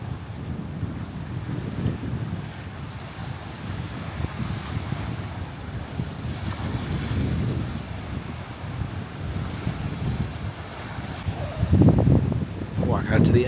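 Ocean waves wash against a rocky bluff on the San Simeon coast near a shipwreck, a steady rushing surf mixed with gusty wind buffeting the microphone, with a louder surge near the end.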